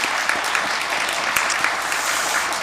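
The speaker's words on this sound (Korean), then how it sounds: "우리 여선교회 찬양대에 우리 감사한 마음으로 한번 박수해 드리면 좋겠어요." A congregation at a Korean church's Wednesday evening service applauds the women's mission choir: steady, dense clapping from many hands, loud and continuous throughout, with no talking over it.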